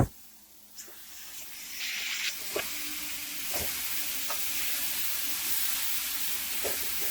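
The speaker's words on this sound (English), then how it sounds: "We're going to use our spatula to unstick this meat from the pan and give it a flip." Steak searing in a cast iron pan, a loud continuous sizzle and hiss rising as the meat is flipped with a spatula, with a few scraping knocks of the spatula against the pan.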